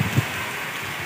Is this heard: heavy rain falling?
yes